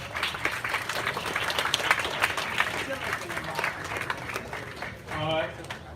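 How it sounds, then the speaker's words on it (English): Audience applause for faculty coordinators at a university event, many hands clapping steadily at moderate volume, with voices speaking over it toward the end. "So a big round of applause for them."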